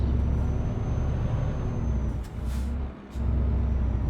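In Euro Truck Simulator 2, a heavy truck engine rumbles steadily, broken by a sharp hiss of air brakes releasing, then the low drone returns.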